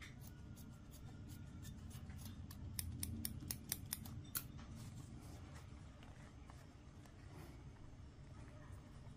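Scissors snip through fabric and wire ends while a doll umbrella is being made, a run of sharp close clicks clustered in the middle over a low steady background hum.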